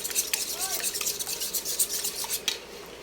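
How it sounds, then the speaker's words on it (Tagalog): Eggs being beaten for fried rice, a quick soft scraping and clinking of a utensil against a bowl, faint and close with small irregular taps. "Kailangan kaunti lang at syempre batihin natin yung egg."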